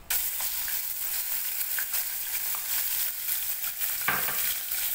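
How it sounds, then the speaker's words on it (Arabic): Chicken liver and gizzards fry in hot oil with a loud, dense, continuous sizzle close up, plus a few light spatula scrapes and clicks; no voices. "ومعايا حوالي كبده كده وقنصه، هننزل عليهم على الزيت ده بسم الله"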